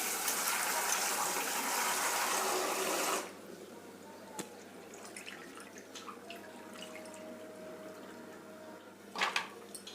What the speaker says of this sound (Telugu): ఇప్పుడైతే ఇవి కడుగుతా, ఒక 3 టైమ్స్ ఎక్కువ వాటర్ వేసి కడుగుతా.